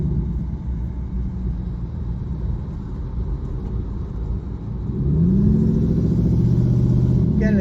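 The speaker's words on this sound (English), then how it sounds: "It's a V8, I mean, but does have an exhaust leak." A Mercedes V8 with an exhaust leak idles and runs on a drive after a front brake job, a deep continuous rumble that swells louder partway through as the engine revs and pulls away.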